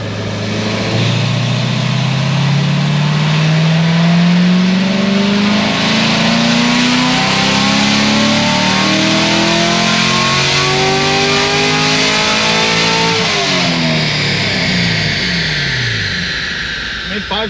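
A naturally aspirated LT1 V8 in a C7 Corvette Grand Sport roars on a dyno, revs climbing loud and close through a long pull before dropping off and easing down at the end.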